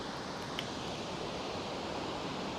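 A waterfall beside Kennon Road at Camp 2 in Benguet sends up a steady, moderately loud rushing wash, continuous and even, with one faint click near the start and no talking.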